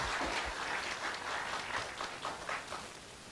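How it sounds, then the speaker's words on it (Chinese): Audience applause at a university consular seminar on Australia and New Zealand working holidays, a steady round of clapping from a crowd that holds at an even level throughout. "我们同学们是不是一个热烈的掌声感谢他们一下"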